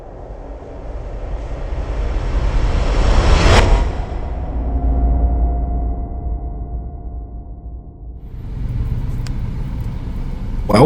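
Busy street traffic in Cairo rumbles steadily, with engines droning and a loud vehicle whooshing close past midway, then the broad roar of the bustling city continuing around it.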